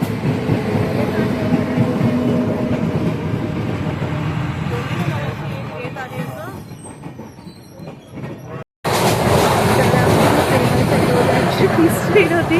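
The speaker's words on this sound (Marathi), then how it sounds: "आता आम्ही ट्रेनमध्ये चढलो." A Konkan Railway train rumbles along with a loud, continuous clatter and wheel noise, briefly cutting out before resuming at full strength; voices can be heard over it.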